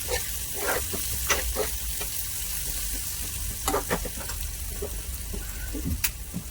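Steady sizzling of tempering spices with salt frying in hot oil in a pan, with occasional crackles and stirring clicks, close and continuous without any talking.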